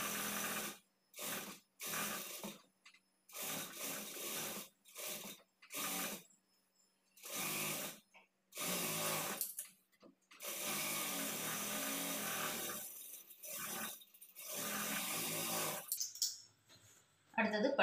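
A sewing machine sews a blouse seam in a string of short, quiet bursts, then one longer run, with someone speaking between the bursts.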